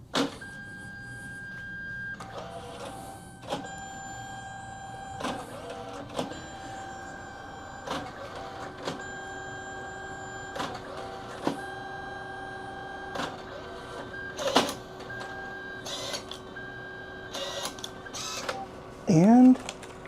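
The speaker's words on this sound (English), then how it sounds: "Printing is always gonna take a little bit more time for the first one." A photo booth printer feeding out its first print, with mechanical whirring and repeated clicks over a steady hum, and a brief louder squeak near the end.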